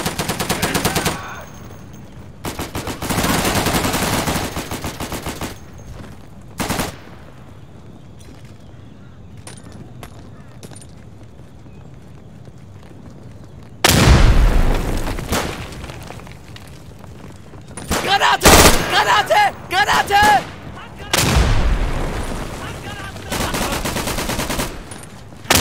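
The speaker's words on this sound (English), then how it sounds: "Kill the machine gun, kill the machine gun, kill the machine gun." Machine gun fire in the World War II video game Day of Infamy comes in several loud rapid bursts separated by quieter gaps, with sharp isolated shots and a sustained barrage near the end.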